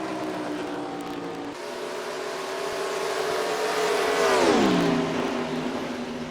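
A NASCAR stock car roars past in the NASCAR Racing 2003 sim during preseason testing at Nashville, its engine droning steadily and then rising to a loud peak with a falling Doppler sweep as it passes close by.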